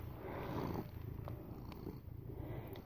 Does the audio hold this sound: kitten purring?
yes